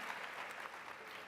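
An audience at a BlogHer17 keynote with Serena Williams claps in a brief, soft, steady burst of applause heard from a distance.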